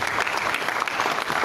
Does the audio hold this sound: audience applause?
yes